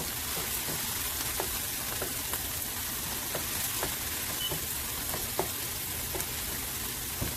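Garlic frying in a hot pan for a Trinidad-style curry potato and corned beef dish, giving a steady close sizzle with scattered small pops and crackles throughout, no talking.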